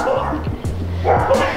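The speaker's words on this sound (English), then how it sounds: "There's some dogs back there." Dogs bark and yip at a house, several short sharp barks in two bursts, fairly close, with a person talking between them.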